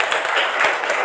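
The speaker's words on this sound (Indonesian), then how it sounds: "Coba sekarang tepuk tangan buat Gendis." Schoolchildren in a classroom clap for a classmate in a brief, dense burst of hand claps with no voices over it.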